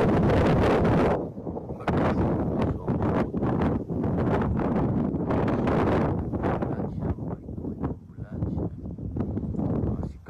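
Strong gusts of outdoor wind buffet the microphone with loud, rumbling bursts that rise and fall almost continuously, with a voice faintly underneath.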